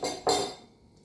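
A utensil clinks against a bowl as makrout dough ingredients (flour, anise) are mixed. Two close, ringing metallic taps fade out over about a second, with no one speaking.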